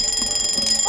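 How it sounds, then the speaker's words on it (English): Phone alarm going off, a loud, rapidly pulsing electronic beeping tone that repeats steadily without pause. "Oh! Is that my phone? Oh, my alarm."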